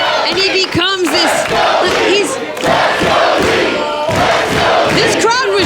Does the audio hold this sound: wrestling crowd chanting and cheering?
yes